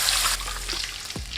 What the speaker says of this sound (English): throw in your stock